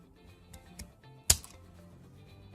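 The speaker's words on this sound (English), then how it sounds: "Only cut off one side of each popsicle stick." A single sharp snap as the end of a popsicle stick is trimmed off while building a doll kitchen, one brief crisp crack standing out from a quiet room with faint handling noises before and after.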